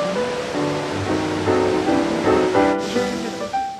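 The Capilano River rushes along the bottom of a gorge, far beneath a suspension bridge about 70 metres high and 140 metres long. A steady, loud broadband roar of flowing water is layered with some tonal sounds.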